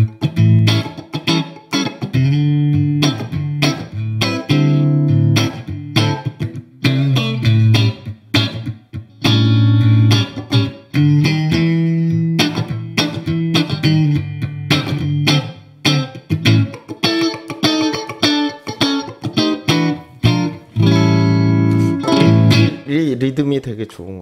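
A Squier Classic Vibe 60s Stratocaster electric guitar plays choppy, rhythmic strummed chords, close and fairly loud, with short muted gaps between bursts.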